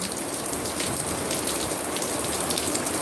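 Heavy rain in Kingston, Jamaica falls without pause, a broad even hiss of drops striking nearby surfaces, and no one speaks.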